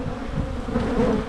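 Honeybees buzzing in a dense, continuous close-up drone during a January hive inspection, many wings humming together with no pauses or voices.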